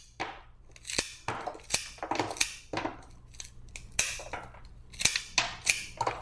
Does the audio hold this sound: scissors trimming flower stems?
yes